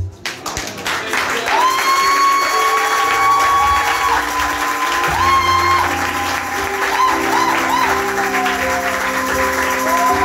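A church congregation applauds in acclaim of God during a worship service. The clapping is loud and sustained, with steady tones from music or voices running underneath throughout.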